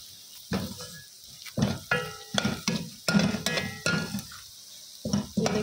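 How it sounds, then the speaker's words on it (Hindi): Red chili and turmeric powder frying lightly in a pan, a spatula stirring in repeated scraping strokes with a clatter against the metal over a soft sizzle; nobody speaks. "इसको हल्का सा हम फ्राई कर लेंगे"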